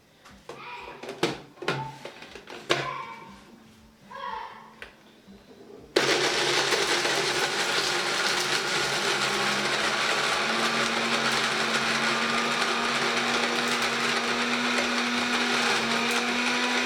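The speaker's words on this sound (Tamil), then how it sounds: "இப்போ நீங்கள் மிக்ஸி சவுண்டு கேட்டிங்க இல்லையா?" A kitchen mixer grinder blends coconut masala paste, starting abruptly and running loud and steady with a continuous high whir after some quiet handling noises at the start.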